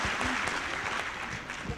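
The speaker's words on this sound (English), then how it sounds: "send big applause to Mr. Didi." Audience applause after a guest lecture on educational leadership, a steady wash of clapping from a room of listeners that stays fairly even in level throughout, with no speech over it.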